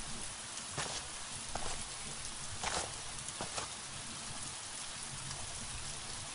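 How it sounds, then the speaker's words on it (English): Rain falls steadily in the video game The Walking Dead: Michonne, a soft continuous patter broken by occasional sharper drips and splashes, with no voices present. "I guess I'll follow you in the rain."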